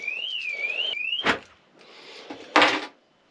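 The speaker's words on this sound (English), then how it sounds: "And, oh, I've set the alarm off." A motorhome alarm sounds a short wavering electronic wail that cuts off after about a second, followed by a couple of sharp knocks and clunks of doors or fittings nearby.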